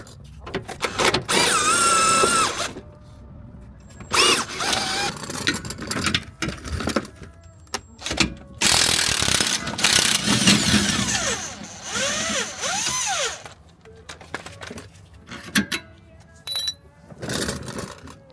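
Ratchet and power-tool work tightening a Rev9 coilover on a 2006 Mustang, heard as repeated close, loud bursts of mechanical whirring and clicking separated by short pauses, with no talk.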